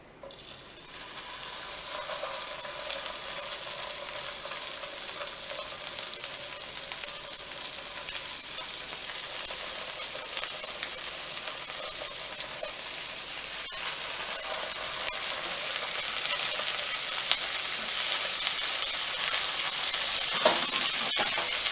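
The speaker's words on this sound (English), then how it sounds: "I'm going to very carefully place them in the pan with the spatula." Veggie dogs sizzle and crackle in a frying pan, a continuous bright hiss that holds steady and grows slightly louder toward the end, with a brief clatter near the close.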